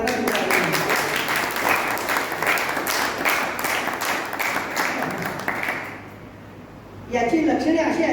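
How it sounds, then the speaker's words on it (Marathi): Sustained audience applause at a talk, dense and steady for about six seconds, then dropping off briefly before a fresh burst of clapping returns. "टाळ्यांचा आवाज करा"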